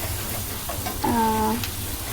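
Garlic being mixed into hot oil in a pan for a Kerala-style fish curry: a brief, close hiss of sizzling, with a person speaking over it.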